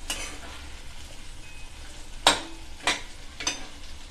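Green chillies sauté in a pan under a soft, continuous sizzle, broken by three sharp scraping stirs about half a second apart near the end. No one speaks.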